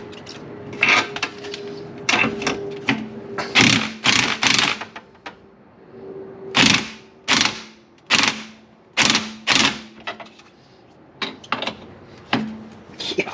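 A ratchet works loose the axle bolts on a 1967 Mustang, with repeated close bursts of quick clicking separated by short pauses over a quiet background.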